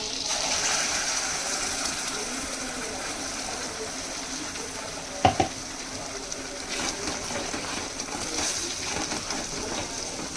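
Paneer kofta gravy hits hot oil and butter in a pan, giving a continuous loud hissing sizzle with a couple of brief utensil knocks partway through and a voice faintly underneath.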